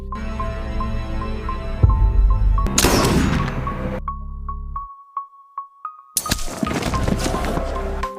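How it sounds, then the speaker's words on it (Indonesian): A sniper rifle fires in a film scene: one sharp, loud shot rings out against a dramatic soundtrack and broadband impact noise, then a quieter stretch of brief ticking clicks follows before loud, dense sound returns. "Tembakan berhasil mengenai targetnya."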